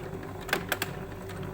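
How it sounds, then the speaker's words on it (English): Sewing machine stitching a short reverse stitch on a corset seam, heard as a few quick mechanical clatters close by over a steady low hum, with no talking. "And of course finish with a reverse stitch."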